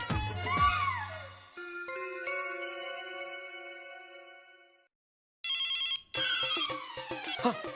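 A telephone rings in an Indian TV sitcom scene, with bright, sustained electronic ringtone bursts that pause, fall silent for a moment, then resume loudly in a shimmering, bell-like pattern.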